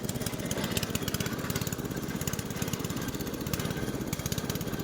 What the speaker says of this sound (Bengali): এই মেশিনটা একদম পুরো মোটরে চলছে